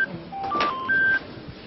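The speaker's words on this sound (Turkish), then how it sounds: "yine aynı numara, telefonu çalıyor." A mobile phone ringing in a shop, sounding as a short run of clear electronic ringtone beeps at shifting pitches, moderately quiet over a soft background.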